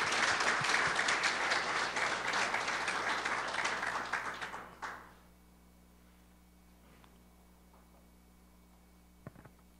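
A conference audience applauds the organizing committee in a dense, steady burst of clapping that fills the first half, then fades abruptly into near silence with only a faint knock or two near the end.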